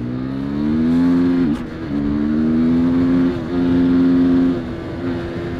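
Supermoto motorcycle, a Husqvarna FE 450 or KTM 690 SMC-R, accelerating through the gears, loud close single-cylinder engine rising in pitch with two brief drops at the shifts, no talk.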